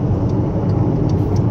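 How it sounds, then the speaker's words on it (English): A car cruises along a road in Sweden in summer, its steady low engine and tyre rumble heard from inside the cabin, constant and fairly loud, with faint small clicks over the drone. "Traveling in the car on the road"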